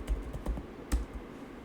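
A few quick, light keystrokes tapped on a computer keyboard, spaced irregularly over under two seconds, close and fairly quiet.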